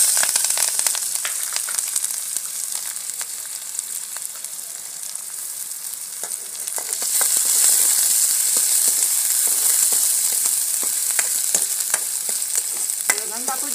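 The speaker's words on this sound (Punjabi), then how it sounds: "ਹੁਣ ਜੀਰਾ ਭੁੱਜ ਗਿਆ, ਗੰਢਾ, ਲਸਣ, ਹਰੀ ਮਿਰਚ ਇਹ ਪਾਉਣੇ ਆ।" Onion, garlic and green chili fry in hot ghee with cumin, giving a loud, close, continuous sizzle with scattered crackles and stirring scrapes; the sizzle swells partway through.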